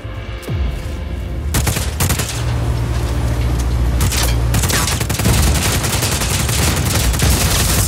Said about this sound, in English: Now I guess I shoot it in the guts.